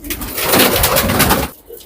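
Allahabadi pigeons cooing up close in a Jaipur loft, a steady throaty rolling coo lasting over a second before trailing off.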